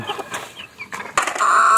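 Backyard chickens cluck and squawk in short bursts at feeding time, close and fairly loud, with a sharper rising call near the end.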